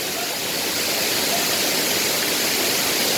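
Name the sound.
Maden Creek waterfall near Karasu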